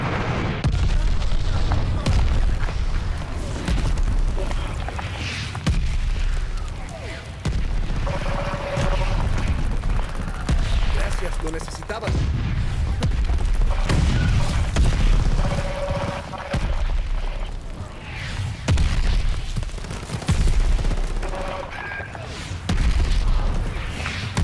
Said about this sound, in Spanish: ¡Vienen los morteros!